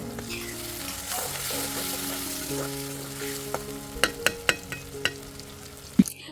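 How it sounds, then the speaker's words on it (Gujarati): Chopped tomatoes sizzle and fry in a pan on a village kitchen stove, with a steady crackle and a run of sharp clinks and scrapes from a spoon stirring near the end, close and fairly loud, without talk. "હવે અહીંયા આપણે સમારેલા ટમેટા ઉમેરી દઈશું અને બરાબરથી મિક્સ કરી દઈશું"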